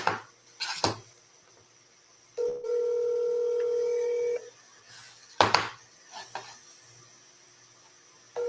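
Telephone dialing tones while placing a call to a property seller, a long steady dial tone followed by a few short keypad beeps, set between clicks and handling noises with no speech.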